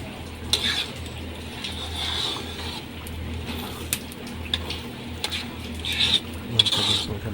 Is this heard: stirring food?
yes